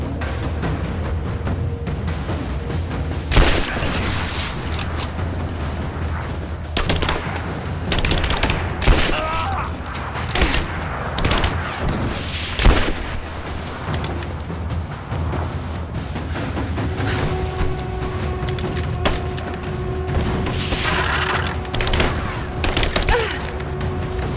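Dense video-game gunfire from Rise of the Tomb Raider during a barracks escape: rapid bursts and sharp shots with heavy booms, continuous and loud across the scene, with faint in-game voices now and then.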